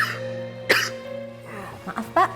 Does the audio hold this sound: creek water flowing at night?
no